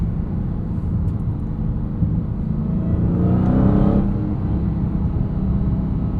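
Supercharged V8 of a 2023 Dodge Charger Hellcat Widebody Jailbreak, heard from inside, holding a steady low rumble that swells into a louder rising drone around the middle before settling back.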